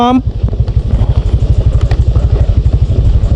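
Honda Click scooter riding downhill over a rocky road in the hills of Toledo, Cebu: a close, steady low engine putter with rapid even pulses and loose clattering throughout.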